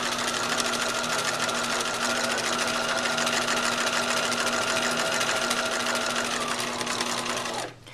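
A sewing machine stitches fabric in a fast, steady mechanical whir with a rhythmic needle chatter, running close and continuously before stopping abruptly near the end; no voices.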